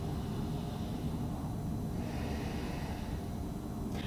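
Deep, slow yoga breathing, a steady close airy rush that holds evenly for about four seconds with no pauses and no talking.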